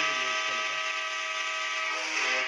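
A loud train horn sounds in Indian Bike Race 3D, a video game. It holds as one long, steady, harmonically rich blast, with no speech over it.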